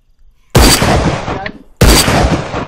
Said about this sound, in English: If he's standing still, I'm gonna shoot him.